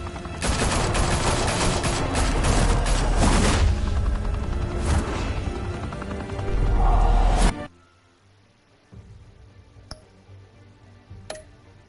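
Dense, loud bursts of automatic gunfire and booming shots fill a Batman video game firefight for several seconds, then cut off abruptly to a quiet room tone broken by a few sparse clicks.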